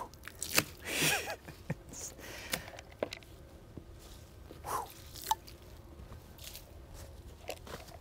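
A small bucket of water is tossed onto a freshly sawn walnut slab, making a quick, soft splash burst near the start, followed by faint scattered drips and light wet sounds in a quiet setting.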